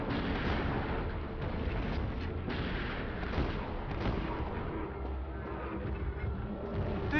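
Repeated shotgun blasts in the survival horror game Silent Hill Origins, loud and dense, with heavy booming reports running continuously through the stretch with no talking.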